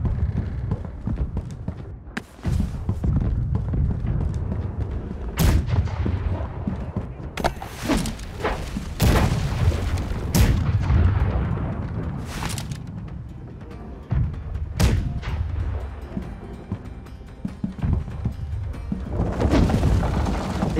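Ship cannons fire in a naval battle in Blackwake, with several loud, sharp booms spread across the scene over a constant low rumble and crashing impacts.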